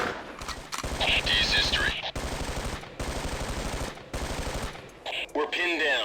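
Rapid bursts of machine-gun fire from the Ghost Recon video game rattle loudly in long sustained strings broken by short pauses, with a voice briefly heard over the shooting.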